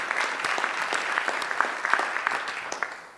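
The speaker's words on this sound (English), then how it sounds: "I think that deserves a round of applause." Conference audience at a regional risk conference applauds, a continuous patter of many hands with a few sharper individual claps standing out, steady and moderately loud with no talking.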